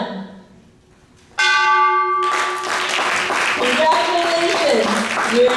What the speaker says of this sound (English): Congratulations, you are now the 647th bell ringer in the world.